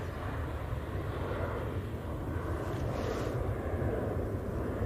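Jet departing Manchester Airport, a steady distant roar of engines blended with wind noise, continuous and moderately faint, no talking.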